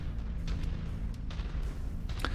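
In a MechWarrior video game, a mech blows up with a deep, sustained rumbling blast, and sharp crackles and pops burst through the low roar.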